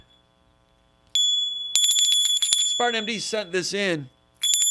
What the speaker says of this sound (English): for the tip jar, for the personal sponsorship, ringing of the bell